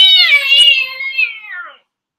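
A person imitates the yowling mating cry of cats with one loud, wavering, high-pitched wail that sounds like a crying child, lasting under two seconds before it stops abruptly.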